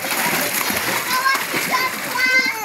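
Children splash and play in water while bathing, with busy splatter throughout and kids' voices mixed in close by.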